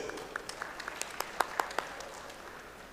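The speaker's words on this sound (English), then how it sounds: "give him a big round of applause, please" Sparse, fairly faint applause from an audience at a journalist awards event, with a few distinct louder claps standing out around the middle against a soft background.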